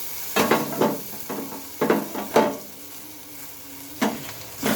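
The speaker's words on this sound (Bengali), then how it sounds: "এবার খুব ভালোভাবে সব সব মিশিয়ে নেব" Mashed boiled potato and chana dal are stirred into spices frying in a pan, giving repeated bursts of scraping and sizzling in an uneven rhythm, close and fairly loud, with no talk.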